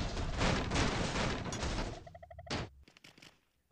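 An explosion goes off in the video game Goat Simulator, a dense, loud burst of crackling blasts that tails off into scattered smaller pops and thuds, with no talk over it.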